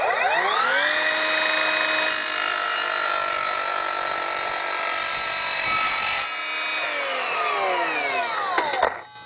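An Evolution R255SMS-DB-Li cordless multi-material miter saw spins up with a rising whine and cuts through 1/4-inch material clamped at an angle. The cut is a loud, steady grinding screech lasting several seconds, then the blade winds down to silence.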